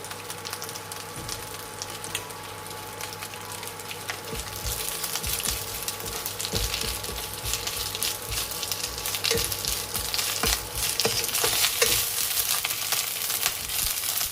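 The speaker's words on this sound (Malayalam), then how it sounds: "അതിലേക്ക് ആദ്യമേ ഈ മുരിങ്ങയില ഇട്ടൊന്ന് വഴറ്റിയെടുക്കണം" Drumstick leaves sauté in hot ghee with a continuous bright sizzle that grows louder over fourteen seconds, broken by occasional sharp stirring clacks and no voices.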